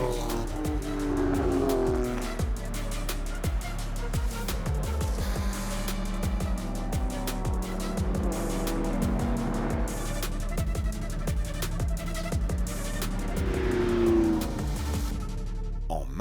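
Classic cars race in a pack at the Prenois circuit during the Tour Auto 2025, engines roaring and revving continuously with repeated gear changes, passing close and loud with occasional tire squeal.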